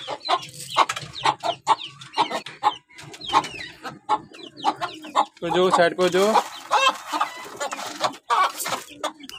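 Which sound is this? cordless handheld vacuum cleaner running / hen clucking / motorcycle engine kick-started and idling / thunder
hen clucking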